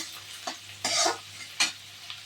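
Garlic frying with onion in a pan, a soft crackling sizzle punctuated by a few sharp scrapes and taps of a spoon stirring against the metal.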